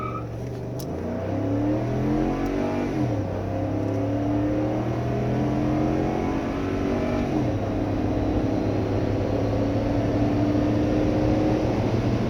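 Ford F-150 pickup in tow/haul mode accelerating hard on a quarter-mile run, engine revs climbing and dropping through gear shifts in a steady loud drone heard from inside the cab, no talking.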